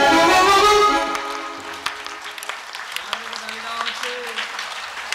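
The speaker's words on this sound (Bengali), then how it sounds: "এবার একসাথে তালি দিন" Group clapping at a Bengali devotional talk, a dense burst in the opening second that quickly fades, leaving a few scattered claps under an ongoing voice and faint music.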